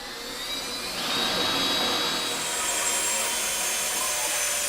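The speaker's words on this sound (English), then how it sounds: "we're going to get some drill bits and drill pilot holes" Drill boring pilot holes into a wooden neck jig, a steady high-pitched whirring grind that swells after the first second and holds loud and continuous, with no talking.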